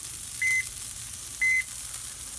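Three short electronic beeps from a barbecue grill temperature alarm set off by the open lid, evenly spaced about a second apart, each lasting a moment, with faint background hiss.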